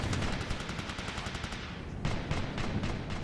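Dense automatic gunfire from the military video game Operation Flashpoint, rapid bursts and rattling shots crowding each other continuously, loud and busy, with a brief dip before more volleys resume.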